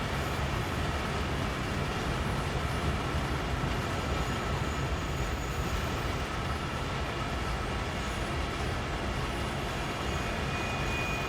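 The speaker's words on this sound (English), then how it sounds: "It's a train." A train rolls along the rails on the Peninsula Corridor in the Train Sim World 3 video game: a loud, steady, dense rumble and roar that holds unbroken throughout, with no speech.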